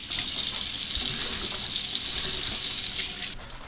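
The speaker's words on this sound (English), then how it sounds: "hot water will do that for you" Hot water runs steadily from a bathroom tap into a sink, a close, continuous hissing splash that stops abruptly near the end.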